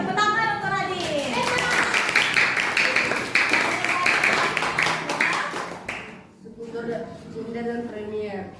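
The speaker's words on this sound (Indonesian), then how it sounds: "tepuk tangan untuk Radit." Classroom applause from students, a dense burst of clapping with children's voices mixed in, lasting about six seconds before fading into a teacher talking.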